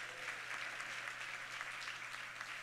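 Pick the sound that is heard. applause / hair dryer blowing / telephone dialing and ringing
applause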